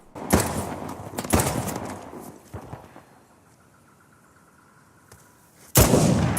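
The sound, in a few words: sniper rifle gunshots in the video game Uncharted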